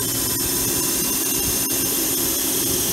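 Milltronics RH12 CNC mill spindle running at 3,000 RPM, a continuous loud, steady high-pitched whirring hum that stays constant throughout with no talk.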